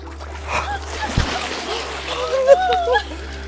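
A tub full of water tips over and splashes loudly onto the ground outdoors, with excited voices talking over the slosh and spill.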